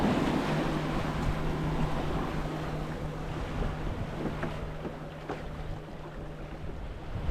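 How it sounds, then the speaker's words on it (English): Sailboat under sail off Shetland's Atlantic coast with the engine off, steady wind and sea noise rushing around it, water sloshing against the hull and a faint low hum throughout, with no talking. "The engine's off and the sails are up."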